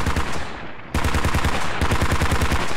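Automatic and rifle gunfire in the Squad video game, rapid bursts of shots close by for nearly three seconds, with a brief dip before the firing resumes.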